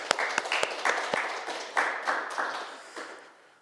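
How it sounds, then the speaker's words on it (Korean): Brief applause from a church congregation at an Easter Sunday service in a Korean church in Cologne, a few louder claps standing out at first before the clapping thins and fades within seconds. "우리 박수로 하나님께 영광 돌리겠습니다"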